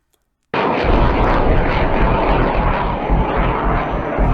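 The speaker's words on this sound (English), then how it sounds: "But this is the F-22, the America's 5th generation fighter." An F-22 fighter jet roars past loud and close, the sound bursting in suddenly after a moment of silence and holding as a harsh, steady engine blast with no one speaking.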